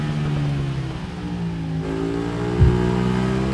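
Moto Rapido Ducati motorcycle in the racing game RIDE 3 on Xbox One X, a loud sustained engine drone with pitch shifting as it accelerates, plus a brief thump partway through.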